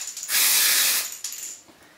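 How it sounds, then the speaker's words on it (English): An aerosol can of green hair colour spray releases one close, loud hissing burst of about three quarters of a second, followed by a shorter, fainter puff, with no voices. "we're going to spray down here. And you'll probably use the entire can."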